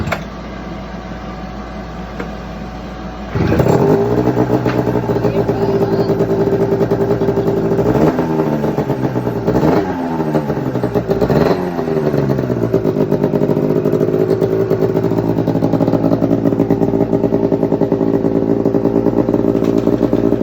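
A freshly rebuilt turbocharged engine cranks over and catches, then settles into a loud, steady running idle with a few throttle blips rising and falling in pitch.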